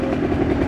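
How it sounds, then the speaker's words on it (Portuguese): Motorcycle engine on a dirt trail ride, a brief, loud, rough low rumble heard up close. "Isso aqui que é moto"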